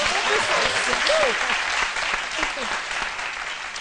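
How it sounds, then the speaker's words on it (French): Studio audience applause on a live midday television entertainment show, steady broadband clapping throughout with brief voices and cheers mixed in. "Ça s'applaudit."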